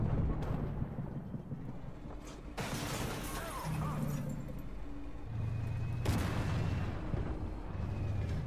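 Tank cannon shots in the armoured combat game Armoured Warfare, with several heavy booms and rumbling impacts spaced a few seconds apart over a low engine drone, fairly distant and muffled.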